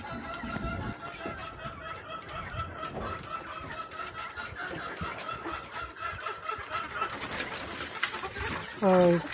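Hungry rare and native chickens cluck and chatter in a backyard coop, a busy mix of near and distant clucks with other birds around, while a person talks over them.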